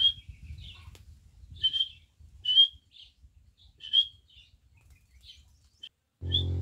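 A rescued emerald dove chick, taken from a nest in cut bamboo, gives a string of short, high chirping calls in irregular bursts, close and fairly clear over faint low background rumble.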